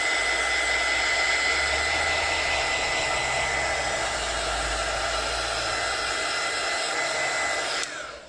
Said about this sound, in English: let's dry the black marks